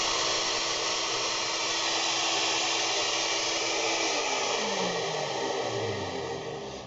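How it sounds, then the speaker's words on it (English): A household vacuum cleaner sucks leaked engine oil out of the spark plug holes of a 2002 Saturn Vue 3.0 V6, a steady loud whine running throughout, with no talking. "I took my handy dandy vacuum cleaner and I sucked out all the oil that was down in the spark plug holes"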